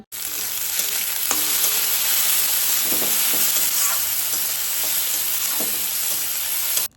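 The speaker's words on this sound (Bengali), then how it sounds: "হালকা ভেজে নেওয়ার পর একটা গোটা টমেটো কুচি করে কেটে রেখেছি সেটাও এবার ওতে দিয়ে দিলাম" Onions, green chillies and chopped tomato frying in a pan, a loud, continuous close sizzle with a few light clicks and scrapes of a spatula, no speech.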